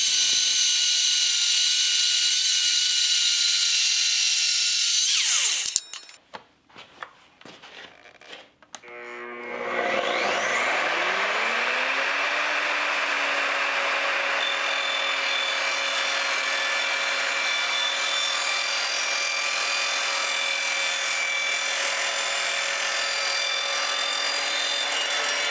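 Evolution R255 sliding miter saw cutting solid 2 by 1.5 inch aluminum: a loud whining motor, then a harsh grinding bite into the metal that drops off, followed by the motor spinning back up to a steady high whine, close and without speech.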